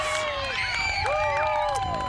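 A crowd cheers at a U10 youth soccer match as a goal is scored, steady loud shouting and whooping with an announcer's voice running over the top.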